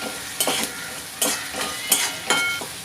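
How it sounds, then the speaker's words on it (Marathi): Onion and curry leaves frying in oil in a pan, a steady soft sizzle broken by four rhythmic scraping stirs of a spoon, close by and without talking. "आपला कांदा थोडा फ्राय झाला आहे"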